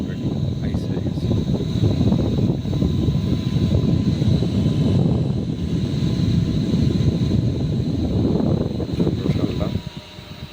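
A mini handheld AC cooling fan with a built-in compressor runs close by, giving a steady, loud whooshing whir of air that holds for about ten seconds before dropping off at the end.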